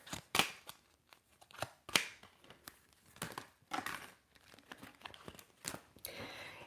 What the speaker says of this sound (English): Even when I'm shuffling the cards,